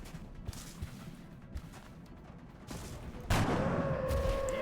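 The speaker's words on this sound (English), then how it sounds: "So, I say we give Rio a shot at redemption, quite literally." Gunshot from the turn-based video game XCOM: Enemy Within, aimed at a floater alien, a sudden loud blast followed by a ringing tail after a stretch of low ambient game sound.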